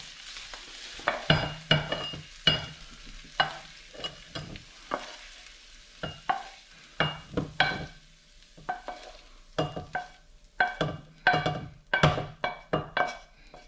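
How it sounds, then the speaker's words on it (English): Foraged cockle clams roast in a hot pan with steady sizzling, broken by frequent loud scrapes and clatters of a utensil stirring against the metal, close up and without talk. "So I just roast up these clams a bit more and we're going to get eating."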